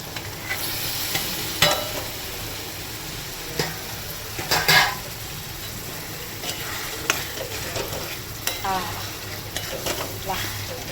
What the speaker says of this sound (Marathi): तर आता चांगलं तेल सुटले बघा. टाकतो आपण ही कोळंबी.